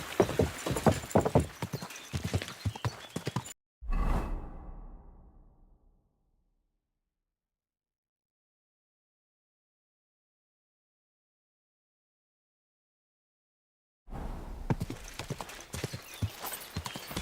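A horse's hooves clip-clop in steady, close strikes in the medieval game Kingdom Come: Deliverance 2, then a thud is followed by a long silence before the hoofbeats return.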